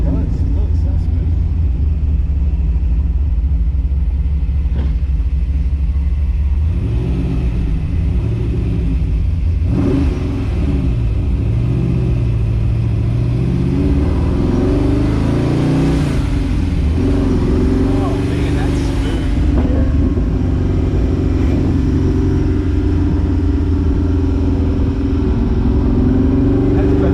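An old Corvette with the top off rumbles steadily while driving, its engine loud and close throughout with surges of revving, and people talk over it.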